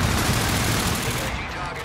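Rapid aircraft gun run in the Call of Duty: Infinite Warfare shooter, a dense continuous roar of cannon fire that stays loud and close throughout.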